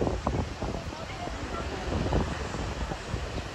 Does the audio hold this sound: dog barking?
no